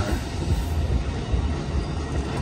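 An Amtrak San Joaquin train led by an F59PHI locomotive departs Emeryville station in California, a steady close rumble of rolling cars and wheels with no voices.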